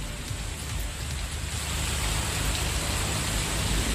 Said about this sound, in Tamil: திடீரென கருமேகங்கள் சூழ்ந்து பலத்த சூறைக்காற்றுடன் அரை மணி நேரம் கனமழை கொட்டியது